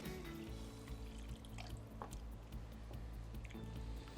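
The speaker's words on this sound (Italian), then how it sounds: "copriamo con un paio di litri d'acqua" About two litres of water pours steadily into a soup pot of legumes, grains and peeled tomatoes, a soft continuous splashing with faint drips, close by and without any voices.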